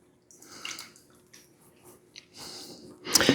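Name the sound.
pouring strawberry mixture over cream cheese mixture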